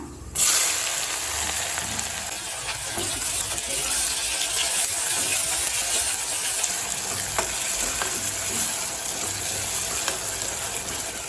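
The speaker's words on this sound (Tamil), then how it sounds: "வெங்காயத்தை நல்லா வதக்கிக்கலாங்க." Onions sizzle and crackle steadily in a hot pan, a dense continuous frying hiss with occasional stirring scrapes, close and loud, no talking.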